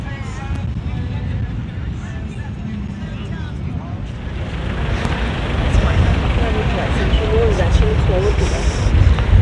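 Strong wind buffets the microphone on a beach walk near Caleta de Fuste, a rough rumbling roar that grows louder partway through, with someone talking over it early on.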